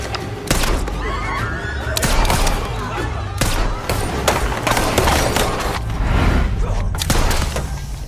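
Gunfire rings out in a film fight scene, with repeated sharp shots and thuds bursting across a dense, loud action soundtrack, mixed with shouting and effects.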